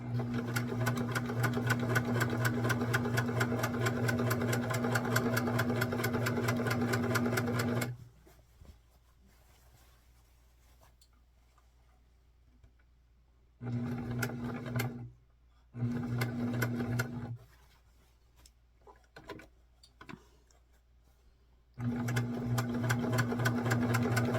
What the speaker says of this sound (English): We're going to sew that shut. Not shut, but sew it down, you know what I'm saying. Sew the seam down.